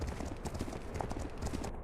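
Horse hooves clip-clop at a steady trotting rhythm in the video game Legend of Khiimori: a quiet, even stream of light hoofbeats with no voices over them.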